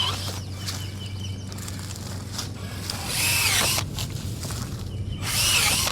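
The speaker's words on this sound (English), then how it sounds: "We're gonna drill holes in this lip of the basket and then zip tie them." A power drill bores holes through the lip of a plastic basket for a DIY pond fountain filter, two short bursts of high whirring and grinding rising over a low steady background hum.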